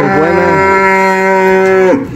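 Cattle being driven from Colima to Ahuacapan, Jalisco, let out one long, loud moo close by. It holds steady for about two seconds and then cuts off, with no talking over it.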